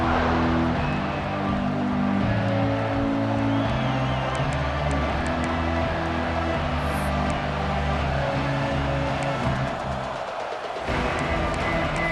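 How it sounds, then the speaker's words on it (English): A college football stadium crowd roars and cheers continuously, a dense, loud wash of voices filling the whole stretch with no break. "This crowd bringing an ear-splitting welcome to their visitors."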